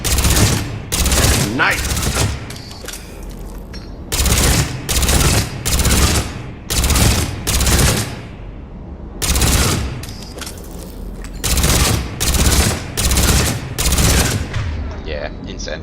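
Repeated bursts of loud automatic gunfire with disruptor ammo in Mass Effect 3, firing in rhythmic clusters separated by short pauses, with a brief voiced exclamation between volleys.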